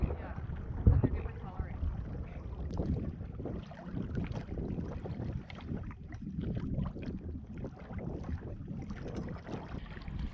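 A canoe paddled on the Namewaminikan River into a brisk headwind, with wind buffeting the microphone and the soft wash of water against the hull under near, continuous low rumble.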